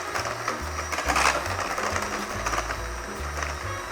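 An electric mixer whirs steadily through pound cake batter as eggs and vanilla go in, its motor pitch stepping up and down in a loud, continuous drone.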